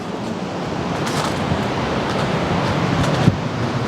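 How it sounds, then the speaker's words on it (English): A waterfall rushes steadily in the background, a continuous broadband roar that stays even throughout, with a brief knock near the end. "you hear the waterfall already in the background"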